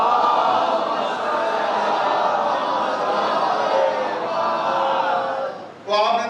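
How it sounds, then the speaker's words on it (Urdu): A large congregation at a Muharram majlis in a mourning hall loudly recites salawat in unison, forming a dense, sustained wall of many voices that swells briefly near the end. "بلند ترین صلوات پڑھیے"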